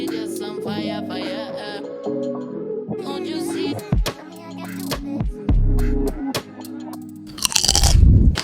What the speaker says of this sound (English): These Korean barbecue flavored kale chips are amazing.